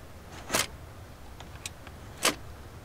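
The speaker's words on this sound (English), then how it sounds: "The parking brake." Parking brake being set in the A2A Cessna 172 flight simulator game: two short, sharp mechanical ratchet-like clicks about two seconds apart, with a few faint ticks between them, against quiet cockpit background.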